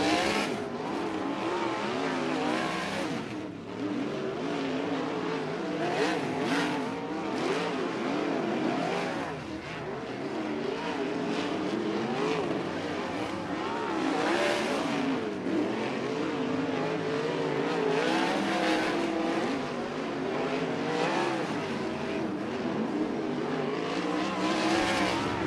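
Dirt race cars lap the track at Action Track USA during a hot lap session, engines roaring loud and continuous, rising and falling as cars sweep through the turns and slide up the dirt.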